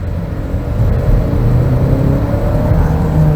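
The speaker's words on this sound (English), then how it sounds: "Yes, you hear that it is a 4-cylinder." A 2021 Genesis G80 with a 2.5-liter twin-turbo four-cylinder engine revs, giving a loud, steady low rumble and whir with a slight rise in pitch, heard from inside the car with no talk.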